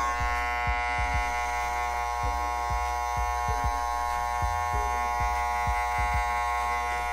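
Electric hair clipper running steadily at close range with a constant buzzing hum, brief clicking contacts as it passes over hair during a men's step-by-step haircut.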